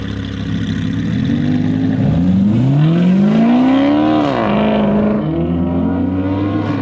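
A car engine revs loudly and close, pitch sweeping up and dropping back before climbing again, alone with no talk.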